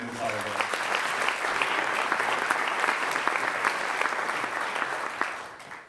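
A morning higher-education innovation event audience applauds the organizing team in a dense, sustained burst of clapping that holds level and fades out near the end, with a little voice audible at the start.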